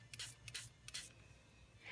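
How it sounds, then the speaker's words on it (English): Short hissing bursts of shimmer mist and alcohol being sprayed onto a paper craft piece, three quick spritzes in a row and another starting at the end, quiet and close with no talking. "I'm going to just spray this with the shimmer mist and the alcohol"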